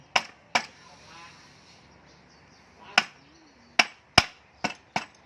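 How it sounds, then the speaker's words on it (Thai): Sharp, isolated rubber-mallet taps on a motorcycle engine part during assembly of a 110i engine with a 125 head: two early knocks, then a quicker cluster of five or so near the end, with quiet between. "อันนี้ก็ใช้ค้อนยางก็ได้ด้ามยาง อะไรเคาะก็ได้นะครับ"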